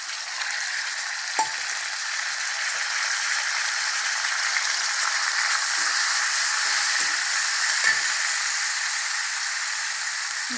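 Onion and tomato frying in a pan for a radish curry, a steady bright sizzle throughout with a few soft stirring clatters, close and alone without talk.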